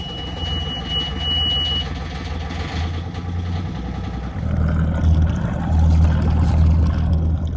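A RIB boat's outboard engine runs steadily with a low rumbling drone that rises in strength partway through, close and continuous with no voices.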